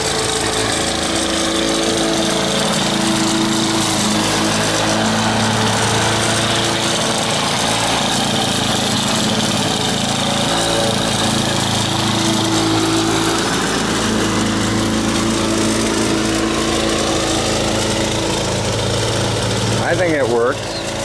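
Lawn Boy 10552 mower running with old gas in it, a loud, steady engine drone with fluctuating pitch throughout, heard up close, with people talking beneath it.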